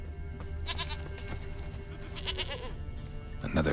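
Goats bleat in a farm scene from The Witcher 3 video game, several short wavering calls spread across the moment over a steady game ambience, with a louder burst near the end.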